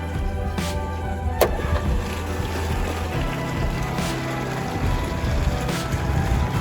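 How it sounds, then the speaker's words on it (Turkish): A swimming pool pump motor running during a rinse cycle, a continuous mechanical hum with steady low tones and a few faint clicks, heard alone. "Motoru çalıştırıyorum."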